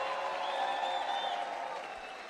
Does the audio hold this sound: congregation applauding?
yes